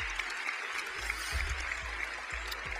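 Applause from a live audience at a touring magic show, a steady dense patter of clapping with no talk over it.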